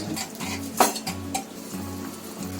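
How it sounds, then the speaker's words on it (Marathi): Cooked cluster beans and lentils being added to gravy in a pot, with a soft sizzle, a sharp clink of a utensil against the pot and some scraping and stirring, close by. "आता याच्यामध्ये आहे ना मी भाजी टाकते"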